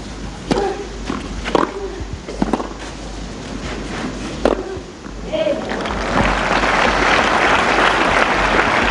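Scattered ball strikes and court sounds at a 2005 Berlin women's tennis match give way to a tennis crowd's swelling applause, which builds and holds loud through the final seconds.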